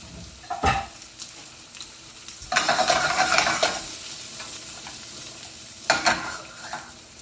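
Sausage sizzles in a hot pan beneath three bursts of scraping stirring, the longest in the middle, with a steady low frying hiss between them.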